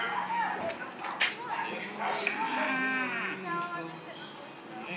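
Calves bawl with drawn-out moos at a ranch cattle branding near Pawhuska, loud and close, while people talk and shout over the animals and a dog barks briefly.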